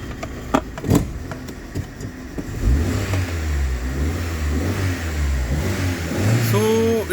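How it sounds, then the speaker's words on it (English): A Hyundai pickup with a low-voltage fault, which limits it near 3000 rpm, revs up and accelerates with a rising, loud engine drone that climbs and holds after a few clicks and knocks; a voice talks faintly at the start. "So it is accelerating fine now"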